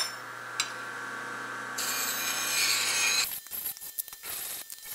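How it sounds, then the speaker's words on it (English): A woodworking tool is sharpened with a steady abrasive hiss of a few seconds, which then breaks into short, irregular scraping strokes; the sound is quiet and close, with no talk. "And now my tool is sharp and ready to be used."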